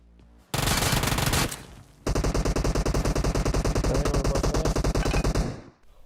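Automatic gunfire in PUBG Mobile: one long loud burst, a short pause, then a second longer burst of rapid, evenly spaced shots, close and dominant.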